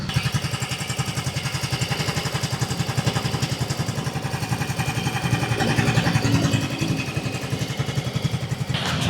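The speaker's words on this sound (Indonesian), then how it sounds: "Kita bakal dengar suara mesinnya dari dekat ya." A Yamaha Gear Ultima Hybrid 125 scooter idles close to the mic with an even, rapid putter, soft and steady, swelling slightly partway through before settling back, with no voices.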